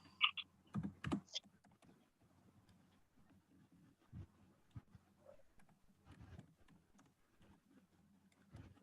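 Computer keyboard typing in a quiet room, with scattered soft keystrokes and brief bursts of clicks.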